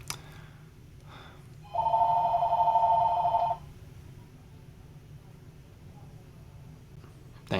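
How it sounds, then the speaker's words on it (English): A home telephone rings in one clear electronic burst lasting just under two seconds, set against a quiet room with faint background noise before and after. "we get the home phone ringing right now, right?"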